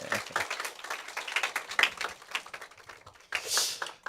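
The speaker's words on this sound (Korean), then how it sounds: "큰 박수로 환영해 주세요." A congregation at a Wednesday church prayer meeting claps in welcome for a visiting missionary, producing soft, rapid, overlapping hand claps heard from some distance and fairly quiet, with a faint voice briefly rising near the end.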